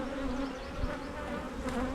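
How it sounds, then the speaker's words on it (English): Honey bees buzzing inside an opened hive during swarm-control work, a steady close droning hum of many insects with no voices. "But there are a lot of bees in the lid as well."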